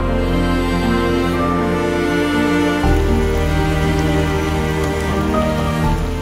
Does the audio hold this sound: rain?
yes